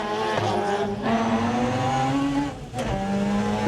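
A Mazda-engined Ford Escort rally car drives hard on a stage of the 2000 Killarney Rally of the Lakes, its engine droning loud and close with pitch shifts as it lifts off and accelerates again.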